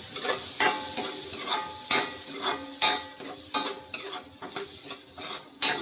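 A spoon stirs fish and cracked peppercorn tinola of sea bream in a pot, sharp metallic scrapes and clinks repeating every half second or so over a soft bubbling simmer, close up with no voices.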